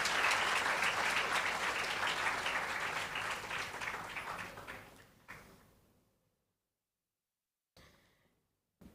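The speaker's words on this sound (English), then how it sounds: "You can give another round of applause as she comes up." Applause for an award recipient at a national awards of excellence ceremony, a dense sustained round of clapping from a hall audience that fades out after about five seconds, followed by near silence.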